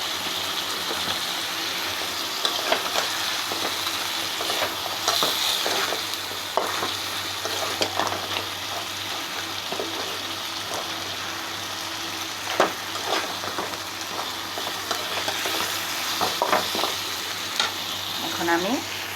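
Spices and salt sauté in a frying pan with a constant bright sizzle. Frequent scraping and clinking from stirring runs throughout, fairly close and moderately loud.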